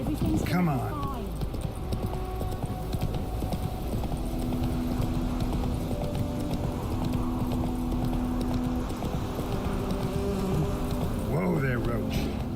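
Roach the horse's hooves clip-clopping in The Witcher 3, a steady rhythm of close hoofbeats under a voice.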